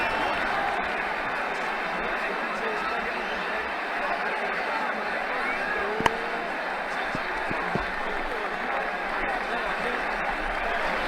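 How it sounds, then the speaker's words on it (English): A cricket stadium crowd in Ashes Cricket 2009 roars and applauds in a steady, continuous wash of noise after a big shot, with a voice talking over it. "That shot brought the crowd to their feet."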